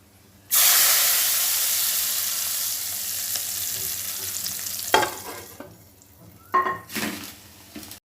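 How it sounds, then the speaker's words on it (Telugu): Mustard seeds and urad dal hit hot oil for a tempering for raw mango dal, starting with a sudden loud hissing sizzle that slowly fades, followed by a few sharp clatters and popping bursts near the end. "ఆవాలు, సాయపప్పు వేసాను కదండి, ఏగుతున్నాయి"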